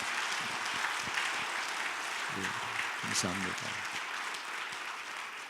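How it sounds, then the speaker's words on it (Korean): A church congregation at a revival meeting applauds with steady broadband clapping throughout, heard from a distance, while someone speaks briefly over it. "우리 아멘 집사님이 되시도록 여러분 큰 박수 한번 해주셔요"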